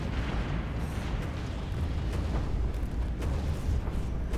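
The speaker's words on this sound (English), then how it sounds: "Looks like they're firing the torpedoes now." Stellaris fleet combat with torpedoes firing and exploding, a dense, continuous rumble of booms and bursts layered on a heavy low roar, steady and loud throughout.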